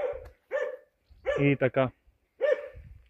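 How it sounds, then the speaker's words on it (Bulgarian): A Karakachan dog on a Balkan mountain trail near Botev peak gives several sharp, close barks in short bursts, including a quick run of three, with a person speaking briefly. "ето го кученце, за където говорех. Мисля, че е балканджийска каракачанка."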